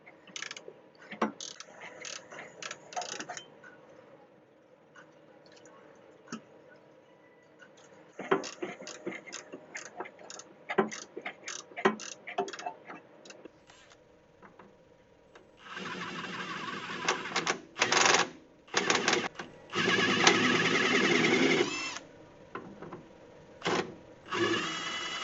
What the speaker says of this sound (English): It also helps to push the bolt from the other side while you're trying to loosen it from this side.